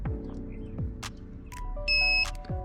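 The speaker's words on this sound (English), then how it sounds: "an audio deal that will beep when you're touching power" A circuit tester gives a brief electronic beep on touching a live wire partway through, amid soft clicks and handling noise during car stereo wiring in a Toyota Chaser, close and fairly quiet.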